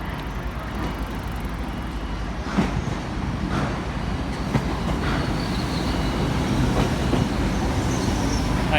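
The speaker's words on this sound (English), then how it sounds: "coming in now is a Great Western Railway service to London Paddington on Penzance" A Great Western Railway service from Penzance to London Paddington pulls into Exeter St David's station, a steady, close rumble of wheels and carriages with faint squeals and clacks throughout, no speech.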